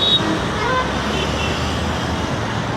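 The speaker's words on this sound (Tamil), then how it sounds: "ஹாரன் சவுண்டு கேட்குதா?" Steady traffic rumble outside Tiruchirappalli International Airport, with faint brief vehicle horn toots over the continuous roadway noise, heard at a moderate distance.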